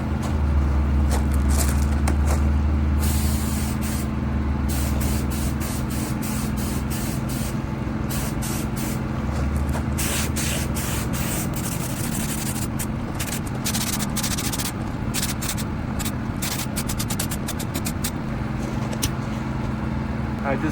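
A spray gun lays a second base coat of paint on a car bumper during a mobile bumper repair, a steady, loud hiss running continuously with faint clicks and scrapes behind it.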